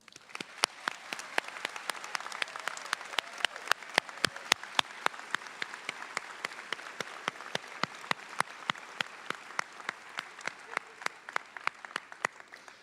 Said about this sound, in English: Let's take a moment to clap one more time.